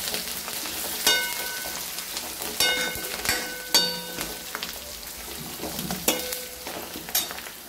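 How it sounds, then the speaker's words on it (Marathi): Finely chopped coriander leaves frying in oil for a green pea curry, a soft steady sizzle broken by several sharp spatula scrapes and clinks against the pan, up close with no talking. "थोडी कोथिंबीर बारीक करून टाकायची। तिला पण परतून घ्यायची तेलामध्ये।"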